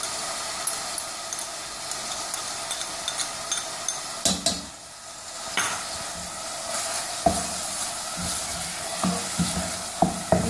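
Onions with garlic ginger paste fry in a pan for a potato egg curry, with a constant close sizzle and a spoon scraping and knocking against the pan in irregular bursts, including a short quieter lull partway through.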